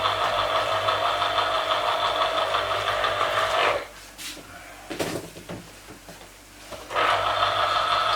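An electric juicer squeezing two oranges and a tangerine for a glass of juice, a loud steady motor whir running for several seconds, cutting out briefly with a few clunks and thuds, then starting up again.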